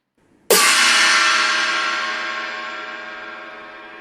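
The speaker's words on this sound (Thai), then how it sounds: "ที่ยกตัวอย่างมาให้นักเรียนก็คือเสียงฉาบนั่นเองค่ะ" A single loud cymbal crash, played as a classroom music example, rings out bright and close, then decays slowly as it keeps shimmering.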